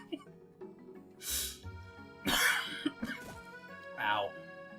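A person coughs and clears their throat a few times in short, harsh bursts close to the microphone, between stretches of talking over quiet background music from a video game.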